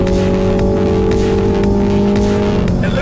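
AMG A35 and Mini Clubman JCW hatchbacks at full throttle in a drag race down an airport runway, a loud, sustained engine roar with steady tonal whine, close and continuous.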